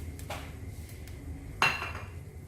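A metal utensil clinks sharply against a cooking pot once while jackfruit preserve goes in for chakka pradhaman, with softer scraping and knocks before it, close and quiet in a calm kitchen.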